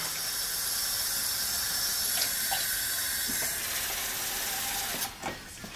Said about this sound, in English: almost half that can back up of cold water.